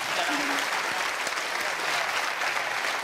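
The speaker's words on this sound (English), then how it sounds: "A small, feeble round of applause," A small, feeble round of applause from a television game show studio audience, thin steady clapping that holds evenly for about three seconds with no voices over it.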